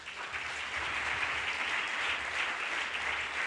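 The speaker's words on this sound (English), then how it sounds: "Give them a big fucking applause." Audience applause at a startup community anniversary event in Barcelona, dense steady clapping from a sizable crowd that fills the whole stretch without speech.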